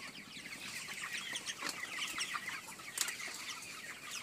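Chickens on a modern poultry farm in winter cluck and chatter continuously, a dense flock sound filling the shed with overlapping calls and occasional louder squawks, with no talking.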